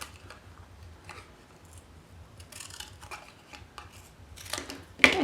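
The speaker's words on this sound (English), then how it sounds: "first I'm just going to cut out this way, and then I'll cut the rest of it out" Scissors snip out a paper shape for a collograph print, with a series of short crisp cuts at an uneven pace, close and quiet over a faint low hum.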